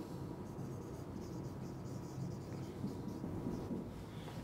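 Chalk or a marker scratches and taps on a classroom board as a definition is written, a faint, continuous scraping over low room noise.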